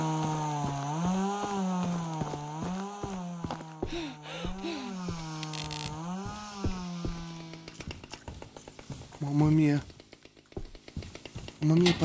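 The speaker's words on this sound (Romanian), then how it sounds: "E șmecher, că ai drujbă, mă?" A chainsaw in the video game Meat Saw revs with a wavering, rising and falling engine whine, loud and close, while a person talks over it and harsher clatter takes over toward the end.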